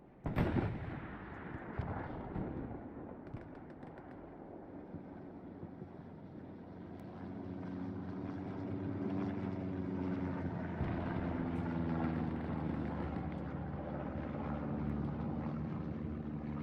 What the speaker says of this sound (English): We have reconnaissance plane.